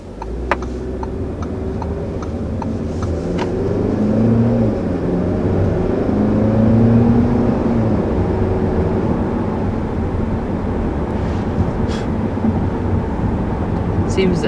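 A 2019 Audi A3 Sedan engine in sport mode gives a steady, moderately loud drone that rises gradually as the car accelerates, heard from inside the cabin with road noise.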